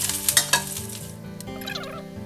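Ginger pieces stir-fried in hot oil in a wok give a close, lively sizzle punctuated early by a few sharp scrapes and clinks of a utensil against the pan, then a softer continuous fry.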